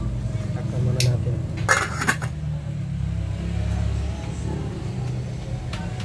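A metal lid set onto a cooking pot of bangus tinola: a few quick clinks and a short rattle of metal on metal over a low stove hum, with a voice talking nearby.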